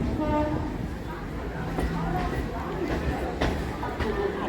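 Naihati-Bandel local train standing at platform seven, a steady low rumble of rail noise with a faint horn-like tone, under busy platform chatter and nearby voices.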